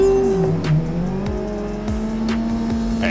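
Car sliding through a drift on the Lime Rock circuit in a racing game, the engine revving and droning while the tires squeal in long wavering tones under repeated handbrake pulls, loud and close.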